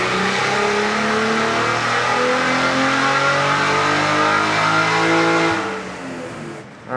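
A Cadillac CT4-V Blackwing's twin-turbo engine screams on a chassis dyno pull running E50 ethanol blend, a loud sustained rising wail held for several seconds before cutting off abruptly near the end.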